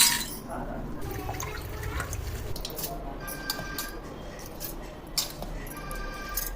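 Water is poured bit by bit over soaked rice in a mixer jar while making dosa batter, a soft continuous liquid trickle with light glassy splashes under steady background noise.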